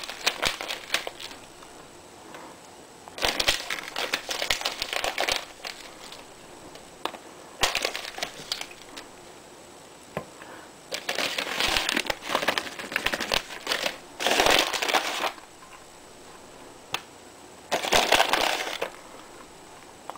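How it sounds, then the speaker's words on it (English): Shredded cheese sprinkled by hand over a nacho meat mixture, giving soft crinkly rustling bursts in several separate handfuls, close and moderately loud, with no talking. "Then I'm going to add some cheese to the top of the meat mixture"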